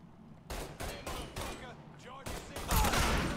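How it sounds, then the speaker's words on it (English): Sniper rifle fire in Mafia 3 gameplay: a series of sharp, loud broadband shots about every half second, followed by a denser burst of gunfire near the end, all close and dominant. "This is a sniper rifle!"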